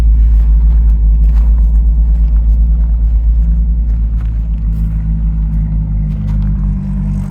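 A loud, deep engine rumble from a Dodge Viper with over 2,000 wheel horsepower, idling and throbbing steadily, heavy low-end pulsing with no voices, close by.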